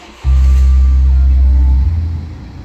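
A 2015 Mini Clubman with a 2.0 engine fires up, a sudden loud low hum that holds for under two seconds, then drops to a quieter settled idle.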